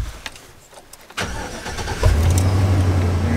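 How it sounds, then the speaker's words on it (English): A van's engine starts with the ignition switch, a brief cranking rattle before catching into a steady low idle that rises in loudness, close by with no talk. "turn the ignition switch for me, please? Just turn the van on."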